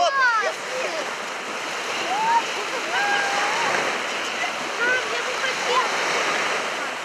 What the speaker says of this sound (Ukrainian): Після недовгої розминки учасники запливу заходять у воду.